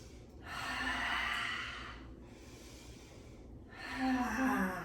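Deep audible breaths during a slow yoga flow with spinal spirals, one long inhale and exhale followed by another strong breath, close and unhurried with no talk.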